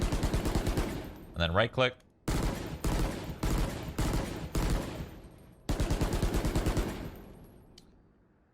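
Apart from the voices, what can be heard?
budget rifle gunfire in video game Valorant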